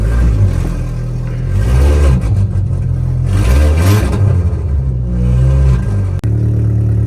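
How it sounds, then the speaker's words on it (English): An abandoned Mini Cooper S with engine and traction warning lights on idles close by and is revved twice, each rev swelling and falling back to a rough idle. "This Cooper S still starts up"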